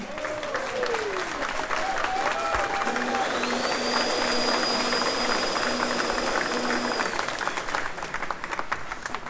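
Steady crowd applause at the GGR2022 round-the-world sailing race prize giving, a continuous wash of clapping with faint tonal sounds drifting through behind it.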